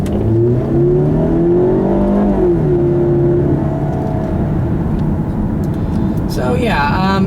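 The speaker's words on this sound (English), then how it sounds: "engine note is an engine note. Nothing harmonious or good sounding really." A 2012 Range Rover Evoque's engine drones under steady driving, a plain, even tone rising slightly then settling, with a constant road rumble beneath and a person talking over it.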